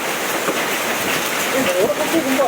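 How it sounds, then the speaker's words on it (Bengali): Steady, dense hiss of heavy rain pouring down, with faint voices rising briefly toward the end. "অনেক বৃষ্টি হচ্ছে অনেক বৃষ্টি হচ্ছে"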